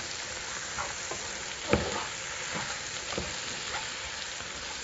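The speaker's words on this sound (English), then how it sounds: "I'm going to stir this all up, really let these mushrooms and onions cook way down." Butter, mushrooms and onions sizzle steadily in a pot for crab chowder, with a few soft scrapes of stirring breaking through the even frying hiss; no voices.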